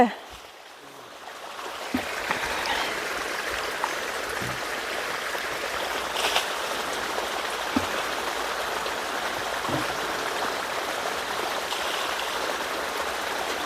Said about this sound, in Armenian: ջրի լավ, պիտի լցես, որ պնդանա